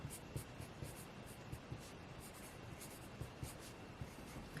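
A pen writes on paper in a binder, making soft, close scratching strokes in a regular rhythm of short bursts over a quiet background, with no voices.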